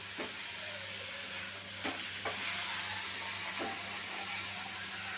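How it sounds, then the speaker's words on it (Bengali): Banana flower being sautéed and stirred in a hot pan, a steady close sizzle with occasional scraping strokes of a spatula, no voices. "মোচাটা এই যে কষছি।"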